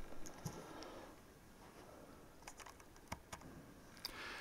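Keys tapping on a Logitech K750 wireless solar keyboard, a faint scatter of light irregular clicks with a few sharper strokes over a quiet room background.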